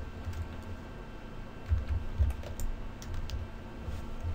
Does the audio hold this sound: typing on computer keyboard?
yes